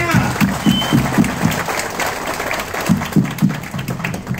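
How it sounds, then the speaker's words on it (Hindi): An audience applauds for the country's army, loud clapping with rhythmic unison beats, crowd voices mixed in. "हमारी देश की सेना के लिए एक बार जोरदार तालियां।"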